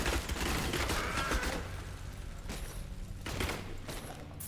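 The rapid fire attack skill in Diablo 3 plays as a fairly quiet, dense stream of quick mechanical shots and clattering impacts, with a few stronger bursts over continuous game noise.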